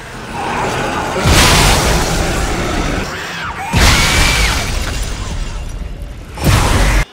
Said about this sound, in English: bust out something incredible, like my personal favorite, the Force Gun. I mean, look at this thing in action